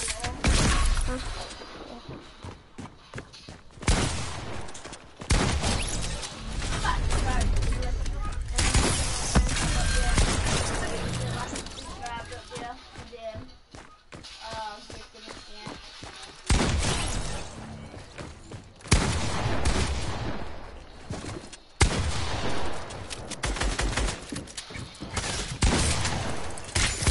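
Rapid shotgun blasts and other weapon fire in a Fortnite match, arriving in loud clustered bursts with gaps between them, continuing throughout under a dense mix of game effects.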